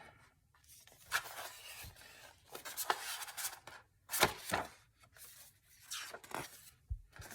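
Paper pages folded and creased by hand for an altered Edith Holden book. Close, irregular crinkles, rubs and sharp creasing swipes come in bursts with short pauses between them.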